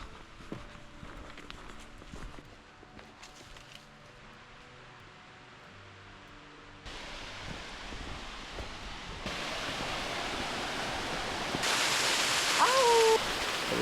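Waterfall in the Southern Appalachians, a steady broadband rush of falling water that grows louder in stages as it is approached, with footsteps and faint wind noise early on.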